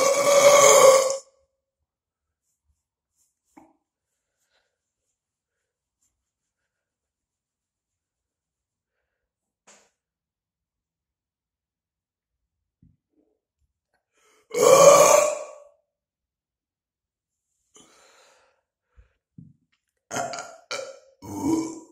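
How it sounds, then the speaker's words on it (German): Loud burps after gulping down cheap cola, with two long belches near the start and middle, then a run of shorter, quieter burps and grunts at the end, separated by long near-silent gaps. "Oh, gleich kündigt sich schon der nächste Rülpser an."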